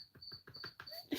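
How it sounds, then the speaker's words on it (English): A Gryllus cricket chirps close by in a steady repeating pulse, six or so short bursts in quick rhythm, with a brief scuffing rustle at the end. "How do you sleep with that cricket noise? I don't mind Grylus chirping at all."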